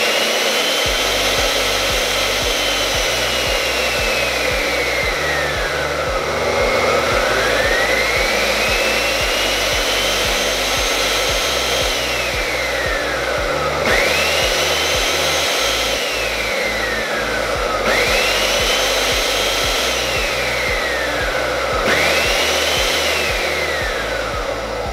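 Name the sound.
whirlpool bath pump running dry, variable speed control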